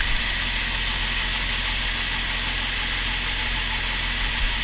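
A grain auger unloads dry corn with a steady, loud mechanical drone and rushing hiss that runs unbroken from start to finish.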